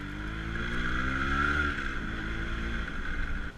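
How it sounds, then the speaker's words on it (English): Yamaha RX135 two-stroke motorcycle revving on a street while carrying a pillion, a steady buzzy engine drone that swells briefly near the middle, with wind noise over the microphone throughout. "I'm just revving this bike around, with my friend as a pillion"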